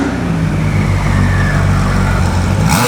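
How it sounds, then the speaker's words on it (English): A Porsche Carrera GT engine rumbles steadily and close by as the car pulls up at a gathering of parked cars, then cuts off abruptly at the end. "we just had a CGT pull up on us"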